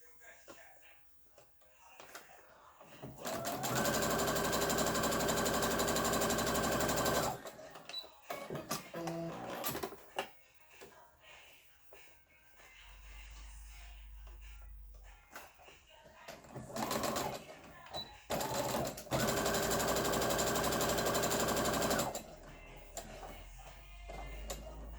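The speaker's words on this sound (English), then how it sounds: "now I'm going back to my machine, okay, and I am going to sew down my seam allowance" A sewing machine sews down a fabric seam allowance in two long, steady runs of several seconds each with a shorter burst between. Quiet handling noises and pauses fill the gaps.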